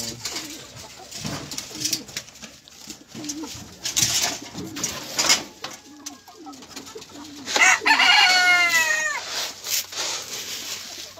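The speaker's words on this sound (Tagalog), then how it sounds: "kalapati manok." Pigeons coo and chickens cluck nearby, with a rooster-like call rising near the end among scattered bird sounds.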